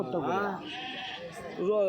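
Sheep at the Kadiri livestock market: two loud, wavering bleats close by, one at the start and one at the end, with a busy crowd murmur between.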